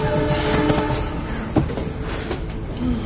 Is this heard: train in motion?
yes